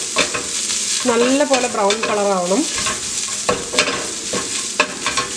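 Coconut, shallots and curry leaves frying on low flame for Kerala ulli theeyal, a steady close sizzle with spoon stirring scrapes throughout, while someone talks briefly over it.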